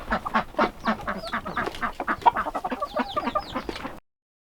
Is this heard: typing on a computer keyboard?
no